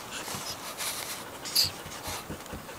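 A dog panting with quick soft breaths and faint whimpers, close by, in a steady rhythm with one brief sharper squeak midway.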